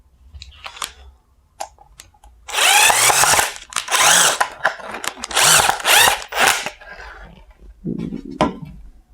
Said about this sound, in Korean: 이렇게 나사를 박아주시고